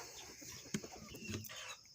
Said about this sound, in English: hadn't saw the chickens in a while.